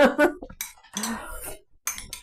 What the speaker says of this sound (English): I'll pop you a spoon in each one.